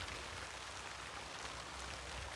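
Rain falls outdoors in a potato field, a steady, dense hiss of drops on surfaces, soft and continuous with nothing else standing out.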